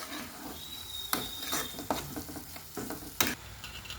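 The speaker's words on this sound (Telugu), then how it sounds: "మొత్తం కలిసేలాగా కలుపుకోవాలి." Spices are stirred into a sizzling chana dal and amaranth stem masala curry, with a spoon scraping the pan in several sharp, uneven strokes over a low frying hiss. No voices are heard.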